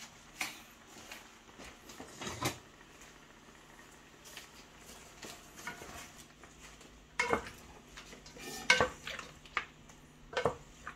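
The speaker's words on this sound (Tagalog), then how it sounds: "Halo-halo para maihalo yung soy at suka." Chicken feet adobo with soy sauce, vinegar and bay leaves stirred in a pot, with sporadic scraping and clinking of a utensil against the metal and a soft simmering sizzle underneath.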